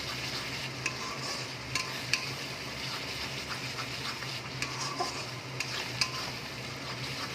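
Masala for chicken kofta curry sizzling in oil while being stirred, a continuous close fry hiss broken by scattered scrapes and clicks of the spoon, no talking.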